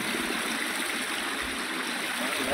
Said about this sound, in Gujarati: આગળ આવ્યા તો ઉપરથી ડુંગરામાંથી પાણી આવતું હતું